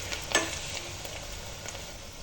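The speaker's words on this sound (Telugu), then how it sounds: "ఇప్పుడైతే ఇది కొంచెం గోల్డెన్ బ్రౌన్కి వచ్చేంత వరకు వేయించుకోవాలి." Onions and green chilies fry in a pan for a mango chicken dish, a soft steady sizzle with a few light crackles and faint stirring, quiet and with no voices.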